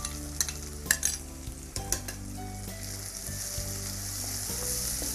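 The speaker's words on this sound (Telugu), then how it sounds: "టొమాటోస్ని ఫ్రై చేయాలి." Finely chopped tomatoes fry in a hot pan with a steady, close sizzle, while a few sharp utensil clinks and scrapes stand out early on and no one speaks.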